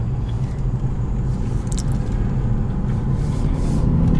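A BMW car rolls along a track at low speed, its engine a steady low rumble that stays close and even throughout, with no talk over it.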